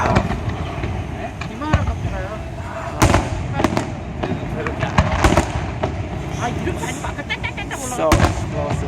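Canada Day fireworks burst at a distance, a series of sharp booms and crackling bangs in irregular clusters, some in rapid bursts, with people talking and exclaiming throughout.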